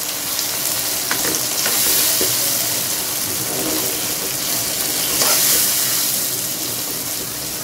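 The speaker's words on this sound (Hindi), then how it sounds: "ये चने जो हमने मैरिनेट किए थे ये ऐड कर दूंगी। इसको मिक्स करेंगे अच्छी तरह से" Marinated chickpeas frying in a pot, a loud, dense sizzle held for several seconds while a spoon stirs and scrapes through them at close range, with no voices.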